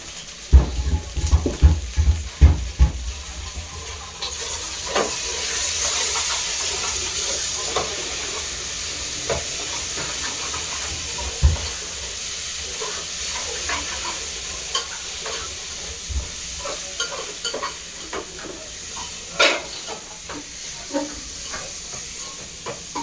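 Potato stir-fry sizzles steadily in a hot pan, with clattering stirs and scrapes of a spoon breaking through the continuous hiss at close range.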